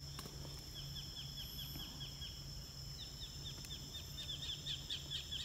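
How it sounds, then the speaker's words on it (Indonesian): Birds calling at a banana farm, with repeated faint chirps and short tweets in the middle distance over a steady hum of outdoor noise, growing busier toward the end. "Ini suara burung masih banyak sekali para Sobat Tani di sini."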